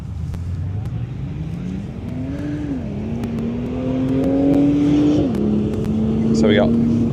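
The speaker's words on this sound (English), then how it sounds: "The diesel churning up the dirt." A diesel car working across a dirt paddock at a motorkhana, its engine note rising and holding steady as it churns through loose ground, with people talking over it.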